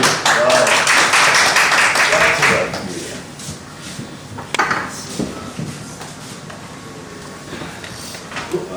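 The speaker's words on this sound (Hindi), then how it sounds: "एक बार फिर भरपूर तालियां" Audience applause at a literary gathering, loud dense clapping for about three seconds that drops away into scattered claps and taps over quieter room sound.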